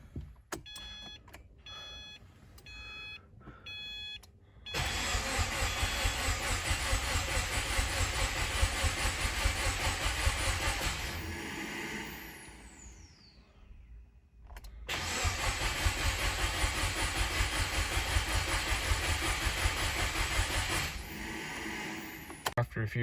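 A Subaru WRX engine with its fuel pump fuse pulled cranks without starting in two long starter bursts of steady, loud churning, separated by a pause, with faint clicks before the first attempt.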